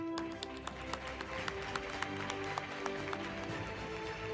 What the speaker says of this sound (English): May we request everyone present to celebrate this historic moment with your loudest applause.